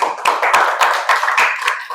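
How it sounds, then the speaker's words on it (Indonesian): Students in a classroom clap their hands together, a dense, close, continuous patter of many hands lasting a couple of seconds with no talking over it. "Tepuk tangan dulu untuk"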